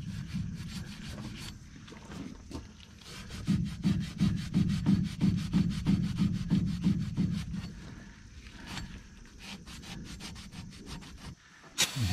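Rapid back-and-forth rubbing as the U-joint seat of a 2001 Ford F250 driveshaft is cleaned, a steady scrubbing rhythm that swells in the middle, then eases off.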